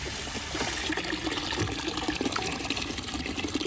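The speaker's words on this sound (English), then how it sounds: "now your float valve would refill your bucket to the exact level it was before your chickens drank any water" Steady running water trickles and splashes as a float valve refills a bucket of chicken drinking water, a continuous close liquid fill with no voices.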